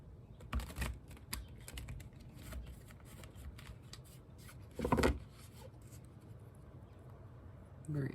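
Tarot cards being shuffled by hand, a soft papery riffling and rubbing in short bursts, with one louder flurry midway and quieter handling between, close and intimate in a quiet room.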